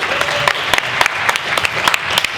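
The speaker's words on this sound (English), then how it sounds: "Clap for yourselves." Dense applause from a convention panel audience, steady and lively, with sharper individual claps popping out over the continuous patter.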